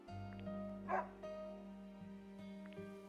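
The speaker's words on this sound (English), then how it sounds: "Is this your dog?" A dog in the video game Another Code Recollection gives a single short, quiet bark over a steady background music drone.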